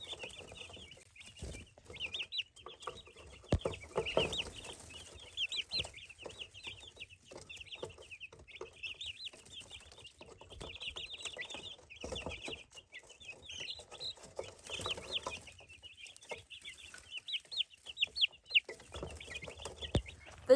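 Cornish cross meat chickens cluck steadily across a backyard flock, soft overlapping calls continuing throughout with scattered thumps and handling noises nearby.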